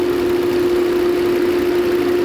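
A 2012 Volvo S60 engine idles with the cylinder 2 ignition coil pulled, giving a loud, close, steady drone with a strong even hum and no talking.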